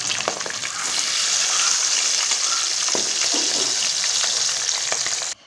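Chicken pieces fry in hot ghee with a steady, loud sizzle that runs the whole way through, broken by a few soft clicks of stirring, and it stops abruptly at the very end.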